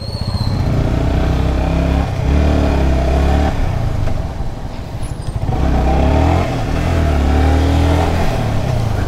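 A Yamaha R15 v3 motorcycle with a modified handlebar setup runs loud and close while being ridden, its engine note steady with a couple of throttle swells and a brief dip midway.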